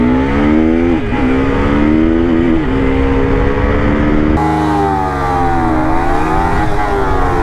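Loud, close whine of a Kawasaki Ninja 300 motorcycle accelerating hard in a race against a KTM RC390, engine pitch climbing, dropping at a quick gear shift, then climbing again.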